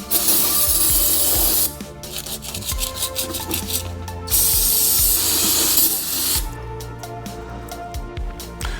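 Bursts of aerosol cleaner spray hiss loudly onto Porsche 718 Cayman S brake pads, two long sprays separated by scrubbing, rubbing and small metallic clicks and knocks, close up with no talk.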